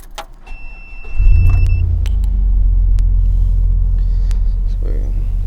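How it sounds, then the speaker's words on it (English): A truck engine cranks and catches, settling into a loud steady idle rumble that continues to the end, with small clicks and mechanical noises over it and a person talking nearby. "So let me turn on the truck."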